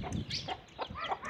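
A hen on a farm clucks in quick, agitated bursts while chasing a pig, heard fairly close in a short series of calls.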